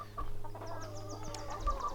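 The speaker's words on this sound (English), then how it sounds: "We're at Paul's chicken coop." Chickens cluck continuously at a backyard coop, a dense layered flock with a low steady hum beneath and a few brighter squawks over two seconds.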